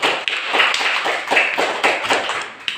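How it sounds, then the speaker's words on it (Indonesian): Students in a classroom clap their hands together, a dense burst of rapid overlapping claps that swells and continues throughout, close and loud. "Tepuk tangan dulu untuk kamu si Sopwa."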